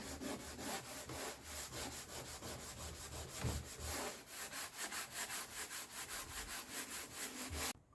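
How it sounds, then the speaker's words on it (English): A burnishing pad rubs steadily back and forth over a transfer on a wooden wine cart during a makeover, a close, continuous scratchy sanding sound with rhythmic strokes that stops abruptly at the end. "And I have my burnishing pad just to remove the halo around."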